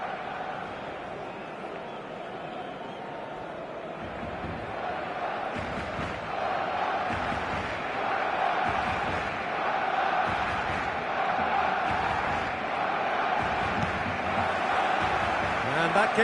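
A stadium crowd in the eFootball 2026 video game roars and chants continuously, building slightly louder over time, with a commentator's voice talking over it.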